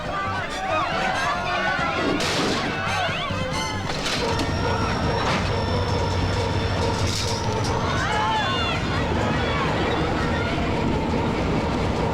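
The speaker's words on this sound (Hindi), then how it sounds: "इंजन स्टार्ट करो, जल्दी करो, जल्दी।" A train rumbles and moves in a tense film scene, a steady loud mechanical roar with metallic clanks and screeches running throughout, under shouting voices and background commotion.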